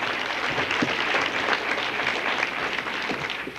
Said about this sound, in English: Give this man a round of applause because he gave us a whole lot of money.